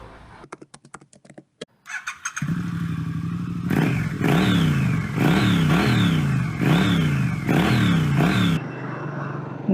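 A motorcycle starts up and rides off on a rough, nearly road-less monsoon route toward a hidden temple, its engine revving loudly and close in repeated rising surges after a few clicks and clatters.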